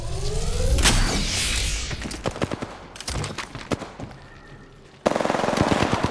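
Rapid automatic gunfire in a video game, loud bursts of sharp shots crowded together at first, then thinner scattered cracks, before another dense volley erupts near the end.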